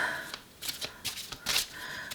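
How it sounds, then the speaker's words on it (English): A deck of positivity cards being shuffled by hand, giving several quick papery riffling bursts in an irregular rhythm, close and fairly quiet, with no talking. "shuffle them and we'll cut them in half"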